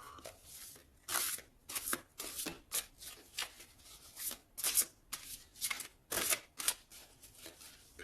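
A deck of tarot cards is shuffled and cut close up, a string of quick papery riffles and slaps in an irregular rhythm, with soft pauses between bursts and no talking.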